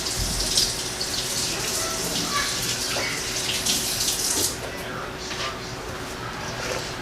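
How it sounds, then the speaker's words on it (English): A kitchen tap runs steadily while hands are rinsed under the stream, a close, continuous splashing hiss that lasts the whole time and eases slightly partway through. "now what I'm going to do is I'm going to go wash my hands"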